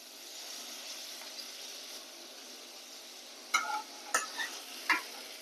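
Cumin paste going into a sizzling pan for a village-style shol fish curry, a soft steady fry hiss followed by a few sharp clinks and scrapes of a spoon, close and quiet, with no talk.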